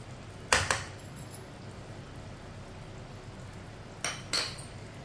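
A spoon scrapes and clinks against a pot while chana dal with kasuri methi is stirred, two brief clattering bursts near the start and two more near the end, with a quiet low hum between.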